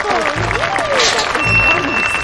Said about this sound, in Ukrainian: Давайте оплесками привітаємо наших учасників